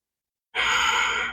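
After a moment of silence, a single long, soft breath is exhaled during a yoga forward bend, close and audible like a relaxed sigh.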